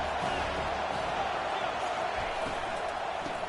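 Steady, dense crowd roar from a stadium in a College Football 25 video game, a constant loud wash of noise filling the whole moment without breaks.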